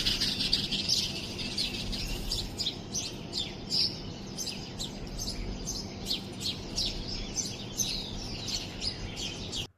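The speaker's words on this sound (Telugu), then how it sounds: "రోజు అలారం సౌండ్స్తో నిద్రలేచే నేను ఈరోజు ఈ బ్యూటిఫుల్ బర్డ్ సౌండ్స్తో నిద్రలేచాను." Many birds chirp and tweet in quick, overlapping bursts on a morning at a resort in Hyderabad, a steady chorus heard alone over a low background hum.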